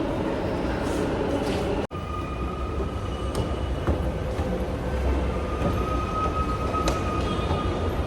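A train rumbles steadily along with a continuous low roar and rattling, broken by a brief sharp cut, with faint metallic tones riding over the noise.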